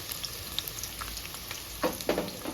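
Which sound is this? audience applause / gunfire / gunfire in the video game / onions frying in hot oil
onions frying in hot oil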